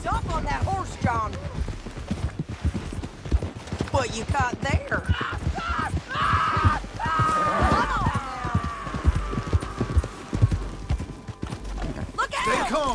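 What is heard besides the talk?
horse galloping in Red Dead Redemption 2 video game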